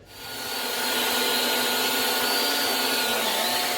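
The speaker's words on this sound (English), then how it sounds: "Also, I've got it connected to a vac, a shop vac. That'll help minimize the dust in the area." A shop vac hooked up to a sander while sanding Bondo filler spins up at the start and then holds a loud, steady whining roar at close range, with no voices.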